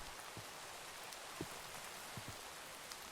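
Rain falling in Minecraft, a soft steady hiss of rainfall with occasional faint low thumps, quiet and even throughout, no talking.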